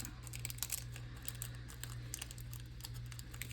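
Poor-quality scissors cut through paper for a Christmas junk journal, making faint, uneven snips and crinkles in a quiet room.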